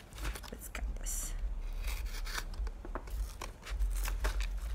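Scissors or a blade cut through a cardboard box close up, producing quiet rasping, scraping snips and tearing sounds with low handling thumps, faint and continuous.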